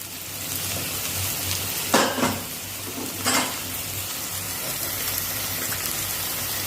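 Sprouted moth beans being sautéed with spices in a pan, a steady close sizzle with a couple of louder scraping stirs partway through.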